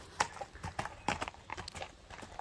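Horse hooves clip-clopping at close range, a run of sharp uneven knocks in a loose walking rhythm, about a dozen strikes over a couple of seconds.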